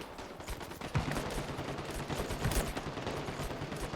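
Machine gun fire rattles through a video game battle between Russian and U.S. forces, with rapid bursts and scattered shots over a dense, noisy background of continuous combat.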